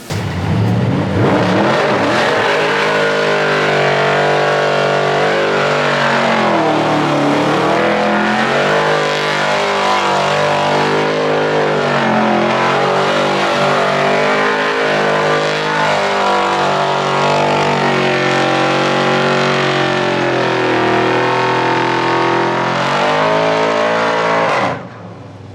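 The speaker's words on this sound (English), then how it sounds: "Cool, go do another burnout." A drift car holds a loud, sustained burnout for around 25 seconds, the engine revving hard and wavering in pitch with tyre roar beneath it, then cutting off abruptly at the end.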